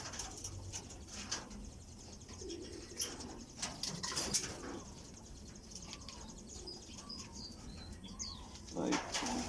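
Racing pigeons coo softly at a moderate distance amid outdoor ambience, with occasional bursts of wing flapping and a louder flutter near the end.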